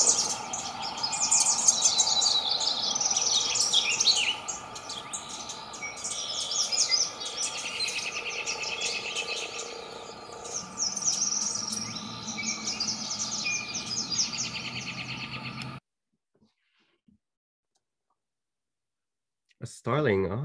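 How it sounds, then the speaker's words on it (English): A Red-winged Blackbird sings in repeated bright phrases over a busy background of clicks and insect-like chatter. The sound is fairly loud and continuous, then drops to near silence before a brief burst returns at the end. "lots of people know the Red-winged Blackbird song."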